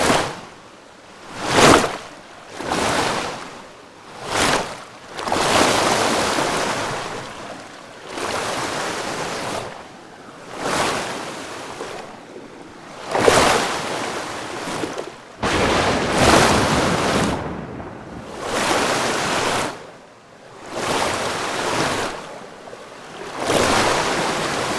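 Storm-driven waves churn on the Jamuna river around a fishing boat in a cartoon horror story, with loud, surging roars that rise and fall in repeated gusts and swells, close and continuous without voices.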